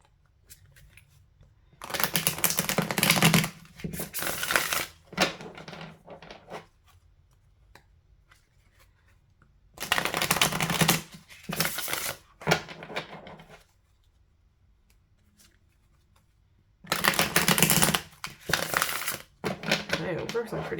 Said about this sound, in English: Those are some pretty smooth shuffles.